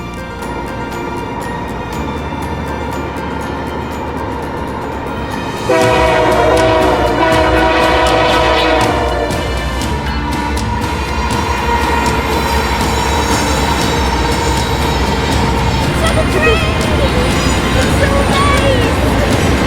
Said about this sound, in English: There's a train! I hear the train!